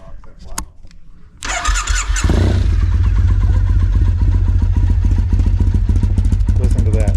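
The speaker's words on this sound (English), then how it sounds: "let's start this thing" A Triumph TR6 clone engine cranks briefly and fires into a loud, throbbing idle through British-style exhaust pipes, close by and running steadily after a few seconds of quieter sounds.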